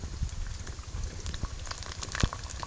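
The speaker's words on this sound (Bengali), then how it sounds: "পাঁপড় ভাজার জন্য তেল ভালো গরম হয়ে গেছে এবার আমি পাঁপড়টা দিয়ে দিলাম" Semolina papad frying in hot white oil: a steady bubbling sizzle with scattered crackles and pops, close and continuous.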